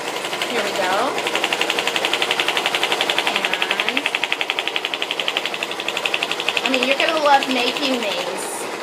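A sewing machine stitches fabric steadily, its rapid mechanical stitching rhythm continuous throughout, while someone talks over it.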